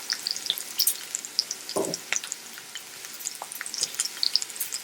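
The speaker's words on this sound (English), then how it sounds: "You see and hear the sizzling?" Potatoes sizzle in a pan on a softwood-fired wood stove in an off-grid homestead, a light crackling fry with scattered bright pops and one low thump near the middle.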